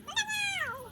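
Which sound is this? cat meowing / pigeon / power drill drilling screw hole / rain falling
cat meowing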